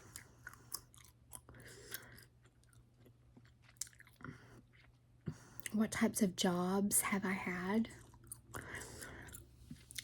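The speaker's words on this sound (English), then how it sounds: "I remember liking the sound of gum chewing." Soft, wet gum chewing with small smacks and clicks runs close to the mic, growing busier and louder in the second half, while a quiet, soft-spoken voice talks over it.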